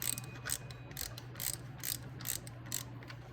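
A ratchet wrench clicks in quick bursts while tightening bolts on a Jeep 5.2 water pump, about seven short rhythmic runs of crisp pawl clicks close by.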